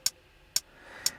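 A hi-hat from a Digitakt drum machine, three crisp, short metallic ticks evenly spaced about half a second apart over a faint low background, with no voices.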